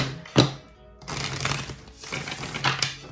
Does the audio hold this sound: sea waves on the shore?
no